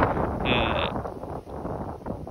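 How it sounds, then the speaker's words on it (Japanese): Wind gusting across an open farm field where crop tunnels are being set up for spring planting, a steady broadband rush that swells and eases, with a faint voice in the background. "今日みたいにこうやって風が、これでもまだね、緩い方ですよね、風はね。"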